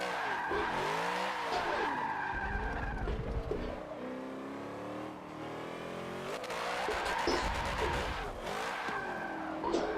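A car drifts in a racing video game played on a Thrustmaster TMX Pro wheel, its engine revving and falling as tires squeal in long wavering bursts, loud and close, with no voices.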